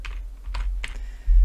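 Typing on a computer keyboard while entering a dash pattern for a contour line type in Rhino mapping software, heard as a few separate bursts of keystrokes that are close and clear, with no talking.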